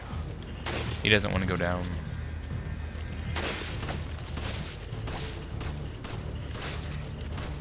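Gunfire crackles in Resident Evil 5 co-op play, with several sharp shots and booms spread across the stretch amid game noise, while a player talks over it.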